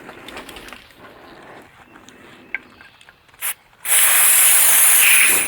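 Aerosol mass air flow sensor cleaner is sprayed on the air mass meter of a Toyota Tundra. It gives a short test burst, then a loud, steady hiss close by after a quiet stretch of faint shop noise.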